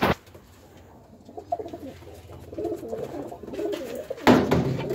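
Teddy breed pigeons, a male and a female, coo close by in a soft, repeated throaty rhythm, ending with a louder burst of fluttering noise near the end.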